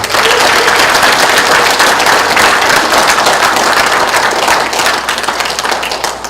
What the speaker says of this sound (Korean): 박수 한번 쳐주십시오, 여러분